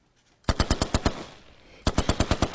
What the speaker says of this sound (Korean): 총소리 아이가.